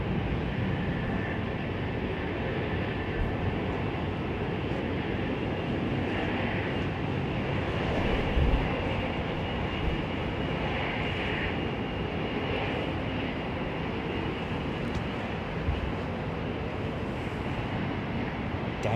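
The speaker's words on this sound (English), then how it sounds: "Love those turbine sounds" Aircraft jet turbine engines at London Heathrow Airport in winter, a continuous broad roar and whine heard from a distance, steady and unbroken for the whole stretch.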